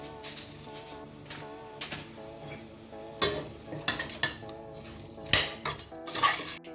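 A spoon scrapes and clinks around a cooking pot while beans are stirred with curry and thyme, irregular metallic knocks that grow busier and louder toward the end, with a low hum behind.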